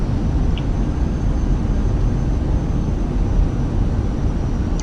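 Fenix A320 airliner in flight in Microsoft Flight Simulator 2020, a steady broadband engine and airflow roar that holds evenly throughout with no talk.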